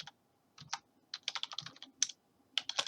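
Computer keyboard typed in quick uneven bursts, crisp close key clicks clustering into short runs separated by brief gaps.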